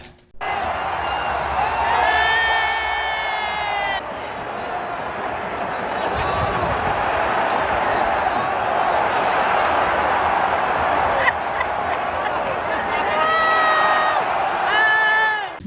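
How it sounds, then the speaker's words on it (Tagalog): A crowd cheers and whoops for a dog, loud and continuous with rising shouts and whistles, a few thumps mixed in near the start. "This crowd cheering for this dog"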